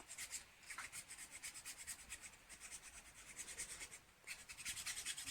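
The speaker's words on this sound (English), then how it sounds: "Quick filing." Steel knife parts being hand filed in a knife making class, a quick run of soft, steady rasping strokes with a brief pause before resuming, close and fairly quiet.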